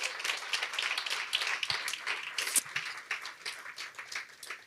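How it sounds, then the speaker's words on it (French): A church congregation claps for its young people, a thinner, uneven patter of individual hands with audible separate claps rather than a dense roar, continuing steadily before easing off. "Est-ce qu'on peut encore les applaudir,"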